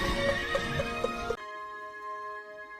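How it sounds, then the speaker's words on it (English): Winged horses in the Harry Potter film Goblet of Fire neigh and whinny in a short, loud burst with a few accented cries. A steady sustained musical tone follows and ends the sound. "Oh, look, a flying horse."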